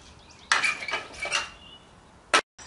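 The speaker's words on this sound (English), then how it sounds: "it's used for getting right underneath the slot along the lug nut cover to pry it off" Tapered end of a lug wrench prying a plastic lug nut cover off a car wheel: a few close metallic scrapes and clicks, then a sharp snap as the cover comes free.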